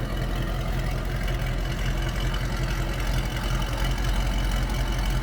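A 2010 Chevrolet Camaro 2SS with Corsa exhaust idles steadily, a deep even rumble with a regular low pulse, close and unbroken with no talk over it.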